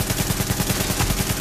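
In the shooter game The Division, a gun fires a sustained close-range burst of rapid, evenly spaced shots, loud and continuous with no talk over it.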